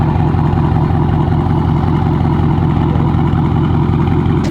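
A 2021 Dodge Charger 392 with a straight-piped exhaust idling, a loud, steady, deep burbling rumble held close and constant throughout, with no talking.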